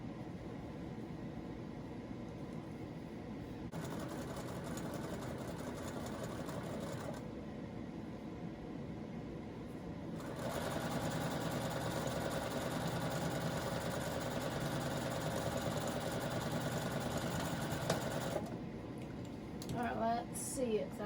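A sewing machine stitches directional quilt pieces for a Russian doll quilt top, humming steadily at close range in two long runs with short pauses between them.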